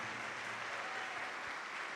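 A church congregation claps together in steady, dense applause that fills the whole moment, with no voices standing out above it.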